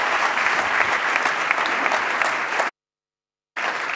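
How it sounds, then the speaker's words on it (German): Loud, dense applause from a crowd at a sales breakout session, breaking off abruptly into silence before the clapping resumes briefly. "grossen Applaus"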